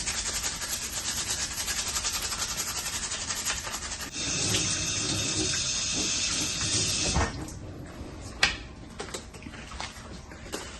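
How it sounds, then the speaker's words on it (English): Running water with a vegetable brush scrubbing the outside of a crab body, a steady wet hiss that swells louder midway and then gives way to scattered clicks and knocks. "With the help of a vegetable brush, I'll just go ahead and clean the outside of the body."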